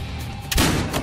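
A single grenade blast in Battlefield Hardline lands midway through as a sudden heavy boom over a steady background of game noise.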